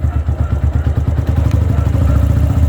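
A self-start motorcycle engine runs close by with a steady, pulsing mechanical beat. It rises a little louder as the throttle is opened partway through, and no one speaks.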